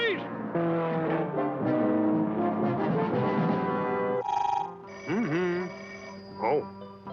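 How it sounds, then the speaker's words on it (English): A shower telephone rings in a comic spy show, its tones sounding against loud music and voices, with further bursts of ringing partway through. "Who else would be on my shower phone?"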